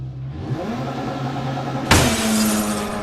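Racing game car doing a handbrake launch: a steady engine drone holds, then at about two seconds a sharp burst of noise marks the launch and the engine note rises and carries on loud.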